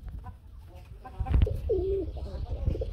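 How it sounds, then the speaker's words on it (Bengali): Giyachli pigeons at a market where pigeons are sold give a soft, low coo among scattered bird calls over a rumbling background. "গিয়াচলি কবুতর"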